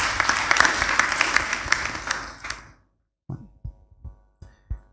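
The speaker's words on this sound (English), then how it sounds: "Give her a round of applause." A round of applause for a girl who answered a question about the gospel in a church class. Dense clapping fills the first two and a half seconds, fades out, and then a few scattered single claps follow after a pause.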